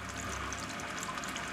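Water pours over a finger as a steady, close splashing stream with no voices, continuous for its short length.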